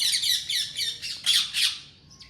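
A pigeon squawks close by in a quick run of about six harsh, rasping calls, then falls quiet.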